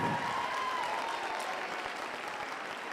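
Audience at a youth fair market hog showmanship class applauding steadily, a broad sustained clapping from a crowd that fades slightly over three seconds, with no talk over it.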